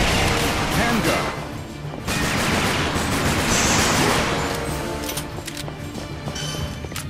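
Loud, rapid machine gun fire in the video game Time Crisis 4, set at a California dam, with dense bursts of shots and crashing impacts filling the scene amid speech.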